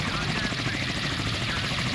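Helicopters in the Sea Power naval combat video game, a steady loud rotor thrum and turbine whine filling the whole two seconds without a break.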